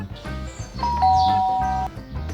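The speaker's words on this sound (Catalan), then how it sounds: "Va tornar a tocar el timbre." A doorbell rings with a clear two-tone chime standing out over a low background, part of a children's story about a caterpillar; a voice may be faintly present underneath.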